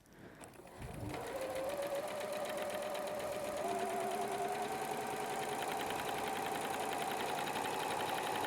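A sewing machine stitches a straight seam along folded fabric under the presser foot. It starts with a click, then settles into a steady, continuous mechanical whir with a fast rhythmic hum that holds to the end.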